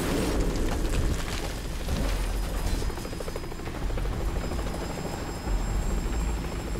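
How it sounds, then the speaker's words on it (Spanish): A helicopter in Metal Gear Solid V: The Phantom Pain roars with a loud, steady rotor thrum and engine rumble, close and continuous throughout, with no talking over it. "El helicóptero."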